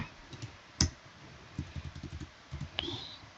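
Someone types a command on a computer keyboard, a close run of light, quick key clicks in short bursts with a couple of sharper taps, under no talk.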